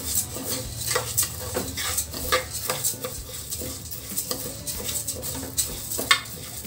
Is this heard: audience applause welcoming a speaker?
no